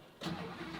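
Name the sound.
Lamborghini Huracán Performante V10 engine starting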